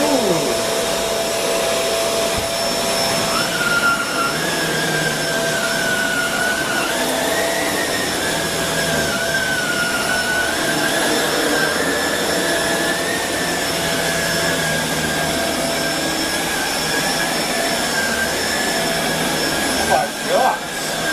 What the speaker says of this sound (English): this is going to be the first time we're going to fire up this new vacuum